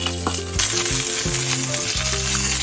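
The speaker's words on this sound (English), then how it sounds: "Now flip it so that the other side gets cooked." A fish head sizzles in a pan with raw papaya for an Assamese alkali dish, a loud frying hiss that bursts in after a moment, over sustained musical tones.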